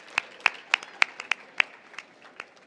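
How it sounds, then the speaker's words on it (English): Scattered handclaps from a conference audience after a panel, about ten distinct, fairly close claps that thin out and fade rather than building into full applause. "Let's give Dr. Carol Swain a wonderful round of applause for everything she's doing to help us."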